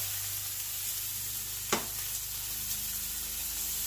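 Food sears in a hot pan during bodybuilding competition meal prep, a steady close broadband sizzle that runs throughout with one brief sharper crackle near the middle.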